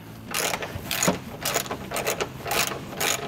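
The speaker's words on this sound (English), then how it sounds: "I got a ratchet here" Ratchet loosening 21 mm bolts that fasten a tray to the subframe of a Ford F350, a series of close clicking bursts in short repeated strokes, fairly quiet with no talk.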